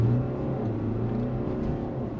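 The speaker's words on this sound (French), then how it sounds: "On va se mettre à l'arrêt et puis je vais mettre pied dedans." A car set to sport mode accelerates hard from standstill, giving a steady loud engine drone with rising harmonic tones that carries through without pause.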